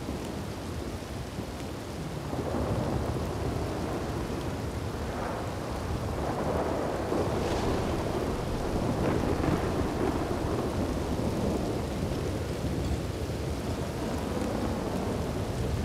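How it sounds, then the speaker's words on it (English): Rain and thunder in the Red Dead RedM video game: steady rainfall hisses throughout while low thunder rumbles roll in and swell, building after a quieter start and staying heavy to the end. "Just want to get in out from under the rain."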